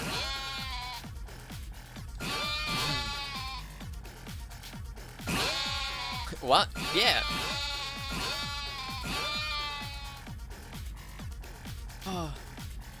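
Repeated sheep bleats in a game, a flock of wavering cries overlapping throughout, with people talking briefly over them.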